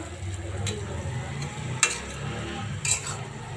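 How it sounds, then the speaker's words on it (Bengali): Hilsa fish sizzles and fries in oil in a pan, a steady low crackle with a few sharp clinks of a utensil against the pan. "এই যে আমার ইলিশ মাছটা ভাজা ভাজা হয়ে গেছে।"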